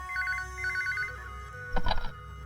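A telephone ringing in an Indian action film scene, repeated electronic trilling bursts followed by a louder ring near the end, sounding alone with no voices over it.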